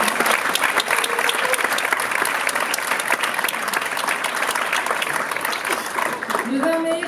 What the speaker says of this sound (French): allez, applaudissez-les